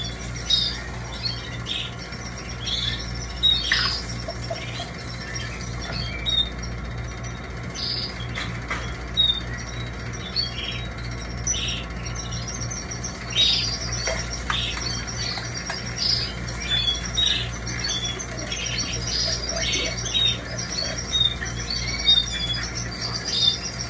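Pet canaries chirp and squawk in their cages during morning watering, a continuous busy stream of sharp high calls and tweets over a steady low hum, with no voices.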